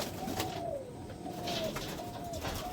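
A domestic high-flyer pigeon coos close by, with a few soft rolling coo calls in a row over low background noise.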